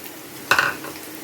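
Chopped garlic tossed into onions frying for dal tadka, giving a sudden close sizzling burst that flares loudly for a moment and then settles into a quieter, steady fry.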